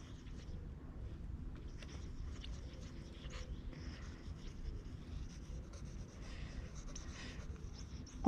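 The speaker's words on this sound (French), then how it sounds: "je dessine." Pencil sketching on paper outdoors in a forest, a steady soft scratching texture running throughout at low level, with faint ambient rustle and no voices.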